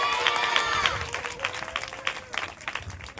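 Audience clapping at a Christmas church service, a dense burst of applause with a few whistle-like tones that thins out toward the end, with occasional voices underneath.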